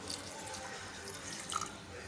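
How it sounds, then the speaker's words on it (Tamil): Tamarind water poured into a cooking pot of bitter gourd and peanuts, a faint, steady splashing trickle over about two seconds with a brief brighter splash near the end, no voices. "புளித்தண்ணி உள்ளே சேர்த்துடலாம்"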